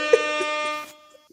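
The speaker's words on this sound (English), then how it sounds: "you deserve air horns for" An air horn sound effect blares loud and sustained for about a second, then cuts off to near silence, dropped into a wrestling discussion.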